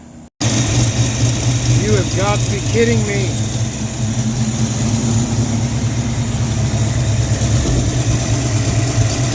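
A Ford Mustang fitted with custom black exhaust tailpipes idles steadily nearby, a low, continuous engine rumble running throughout, with someone speaking briefly over it near the start.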